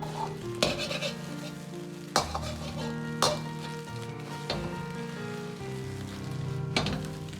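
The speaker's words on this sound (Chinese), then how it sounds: "翻面煎至1分钟，煎至鸡蛋2面焦黄出香味" Eggs frying in a wok give a steady sizzle, punctuated every second or so by sharp scrapes and knocks of a spatula against the metal, all under a tonal musical backing.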